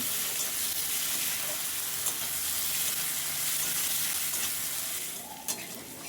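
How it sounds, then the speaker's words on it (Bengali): Garlic and dried chilli paste frying with onions for ghugni, a loud, steady close sizzle under constant stirring with a spatula, and no voices. "এরপরে রসুন ও শুকনো লঙ্কার বাটা দিয়ে ভালো করে ভেজে নেব"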